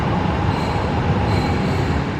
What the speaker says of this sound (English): The train arrives slowly,